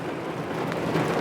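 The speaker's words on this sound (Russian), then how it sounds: "Слегка небольшой дождик." Light rain falling over a wet race track, a brief, steady hiss of drops with a soft diffuse texture, close and continuous with no voices.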